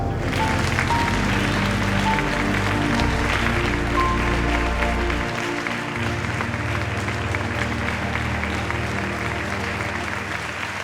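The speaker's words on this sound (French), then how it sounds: "Applaudissez-le encore" A concert audience applauds steadily in a dense, sustained wash of clapping that stays loud for the whole stretch, with a low musical hum underneath.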